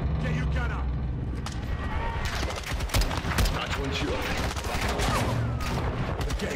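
Heavy gunfire in a Call of Duty: Modern Warfare 2 cutscene, dense fusillades and automatic bursts at close range, continuous and loud, with shouted voices mixed in.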